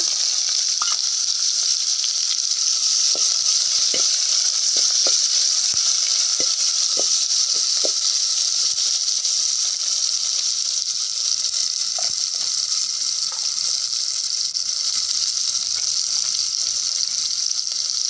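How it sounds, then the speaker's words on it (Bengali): Whole garam masala and chopped onion sizzle in hot oil for a beef or mutton tripe and capsicum dish: a loud, steady, close frying hiss broken by scattered small clicks. "এতে গোটা এই গরম মশলাগুলো সব দিয়ে দেব, পেঁয়াজ কুচিটাও দিয়ে দেব।"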